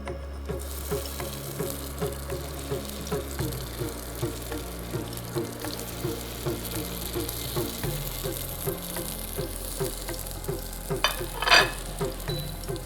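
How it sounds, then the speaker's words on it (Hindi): Shami kebabs fry in hot oil with a bubbling crackle, joined by rhythmic scraping and stirring strokes and a brief louder burst near the end, close up with no speech. "और तेल गर्म होने के बाद इसमें जो हमने शामी कबाब बनाए थे वो इसमें डाल देते हैं।"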